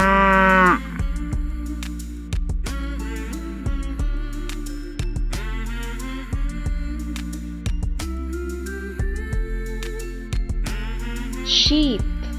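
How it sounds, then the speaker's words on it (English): Recorded cows give several long, loud moos in succession, each a deep drawn-out call with short gaps between, and a brief higher animal call near the end. "Cow."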